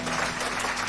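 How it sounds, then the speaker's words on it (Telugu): Congregation clapping during a New Year church service, a dense steady wash of many hands filling the short moment with no voices standing out. "చప్పట్లు కొట్టి దేవుడిని మహిమపరుద్దాం"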